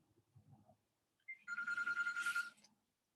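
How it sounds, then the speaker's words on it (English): A telephone bell rings in a single trilling burst after a faint low murmur, a rapid metallic rattle lasting about a second at moderate volume, close and otherwise quiet. "Get up and answer that phone."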